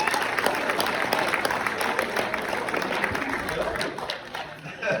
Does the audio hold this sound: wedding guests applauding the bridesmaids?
yes